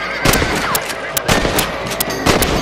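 Rifle shots in Red Dead Redemption fired at rabbits, a run of sharp loud cracks about every half second over a steady outdoor background.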